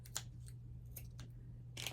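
Scissors snipping a piece of twine for a wreath, a few quiet, crisp cuts spaced over two seconds in an otherwise hushed room.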